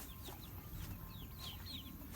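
Chickens clucking softly in a coop on a hot day, several short scattered calls at a moderate distance over a steady background hum, with no talk.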